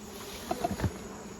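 Honey bees hum steadily around their hives, a constant close buzz broken by a couple of soft taps and a brief dull knock.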